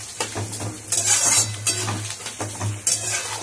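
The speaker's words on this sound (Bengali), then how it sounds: "এবার মশলাটা খুব করে কষাতে হবে, অনেকক্ষণ ধরে।" Ginger paste frying with boiled young jackfruit and potato in a pan: a steady sizzle under repeated rhythmic scrapes and clinks of a spoon stirring against the metal, close and fairly loud.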